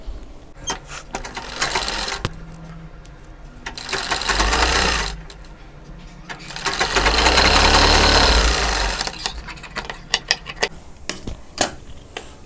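Sewing machine stitching blouse fabric with lining for a belt, two sustained motor runs of rapid stitching separated by clicks and handling noises.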